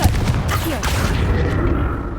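A Confringo fire spell goes off in Hogwarts Legacy, a loud, dense booming blast with a sharp start at the beginning, followed by a sustained rumbling, crackling roar that stays strong to the end.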